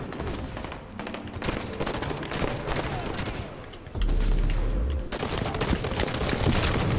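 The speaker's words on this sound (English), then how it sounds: "Battle rifle." Rapid bursts of battle rifle fire in Halo 5 multiplayer slayer match, dense overlapping shots and explosions mixed with game effects, loud and continuous throughout.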